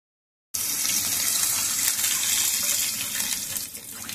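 Water pours into a pan in a steady, loud gushing stream that starts abruptly after a moment of silence and eases slightly near the end.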